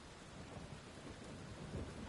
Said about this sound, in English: The weather even changes around here. That's a nice detail. It's all stormy and rainy now.